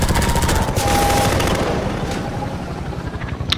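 Rapid automatic gunfire from the helicopter boss in Half-Life 2, a dense continuous rattle of shots at steady loudness throughout, with a sharp crack near the end.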